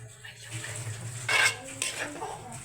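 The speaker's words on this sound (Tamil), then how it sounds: "இந்த ரவ்வை நாங்கள் போட்டு கிண்டி கொண்டிருக்கிறோம்" Semolina being stirred in a pan for upma, with soft scraping strokes against the metal and a louder burst of scraping near the middle, over a low steady background hum.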